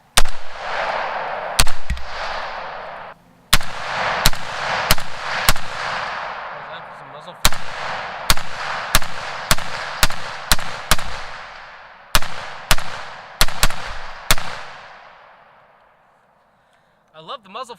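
Twenty rounds of rifle fire through a cheap eBay muzzle brake, loud sharp cracks in uneven bursts with ringing decay between shots, some quick doubles, then fading to quiet.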